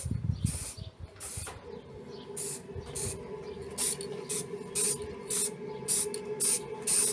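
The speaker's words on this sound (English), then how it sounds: "Apologies for the noise, that's the boiler." A household boiler runs with a steady low hum and hiss that stays constant throughout, with intermittent sharper spray-like bursts repeating over it near the microphone, after an opening stretch of low rumble.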